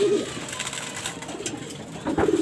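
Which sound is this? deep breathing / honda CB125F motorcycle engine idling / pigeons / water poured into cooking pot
pigeons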